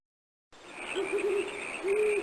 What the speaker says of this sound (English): listening to the owl hoots